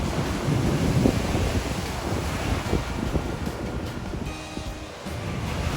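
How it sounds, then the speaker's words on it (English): High sea waves roll and crash onto Porthcurno Beach in Cornwall, a continuous surf roar buffeted by strong wind gusts rumbling across the microphone, with no voices. "The waves were a lovely aqua blue and quite high, not surprising given the strong wind."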